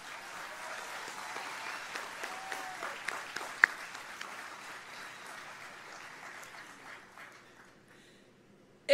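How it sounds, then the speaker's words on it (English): An audience at a high school graduation applauds the school staff, the clapping moderately loud and fading gradually toward the end, with a few sharp claps and faint voices. "give them a round of applause"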